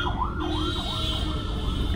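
A police vehicle's wailing siren rises and falls repeatedly, loud and steady, over the low rumble of engines in road traffic, with no talking heard.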